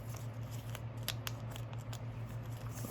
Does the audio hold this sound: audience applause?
no